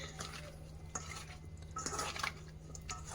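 Dum veg biryani ingredients and vegetable pieces being mixed together at home, with soft stirring scrapes and light utensil clinks in a quick, uneven rhythm, close by and with no talking.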